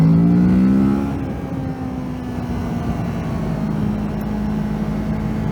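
A Kawasaki Z650 motorcycle engine revs high, then settles into a steady drone while riding, with loud tonal engine whine over constant wind rush.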